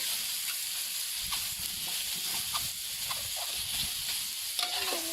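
A steady sizzle of zucchini stir-frying in a hot pan, with occasional spatula scrapes and clinks over the continuous hiss.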